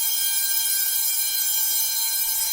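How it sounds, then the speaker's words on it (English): A high school fire alarm rings continuously, a steady loud electronic tone with a bright buzzing edge that holds without a break throughout. "Yes, that is a fire alarm."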